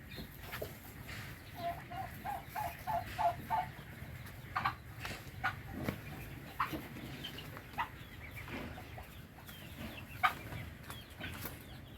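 A chicken clucks repeatedly in short, rhythmic bursts over a steady outdoor background hum, moderately close, with scattered sharper calls.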